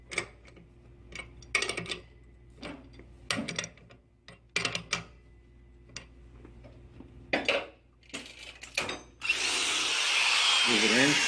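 An electric torque wrench used for lab work whirs loudly and steadily for about two seconds near the end, after a stretch of intermittent speech and handling noises.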